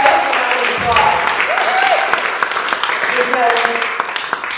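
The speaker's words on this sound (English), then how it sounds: "Give this man a round of applause." A congregation in a church center gives a sustained round of applause, with voices and cheers mixed into the clapping.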